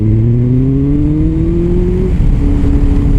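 A 2006 Honda CB1300 four-cylinder motorcycle, ridden on the road, with its engine revving loud and close; the pitch climbs steadily under acceleration, then drops sharply at a gear change, with steady wind roar underneath.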